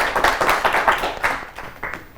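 An audience at a children's TV show claps for students in a short burst of close, dense clapping that quickly thins and fades.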